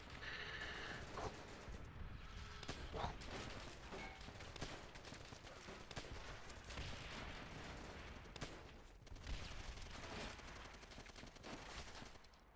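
Heavy barrage of explosive blasts and gunfire from an artillery strike in the VRChat video game, dense and continuous across the whole stretch, with sharper booms breaking through a constant rumbling roar.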